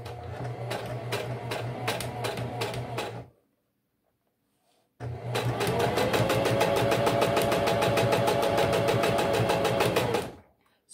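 Sewing machine with stitch length set to 2.5 stitching a seam on a baby burp cloth: a fast, even mechanical whirring in two runs, a short burst, a pause of silence, then a longer steady stretch, close and alone.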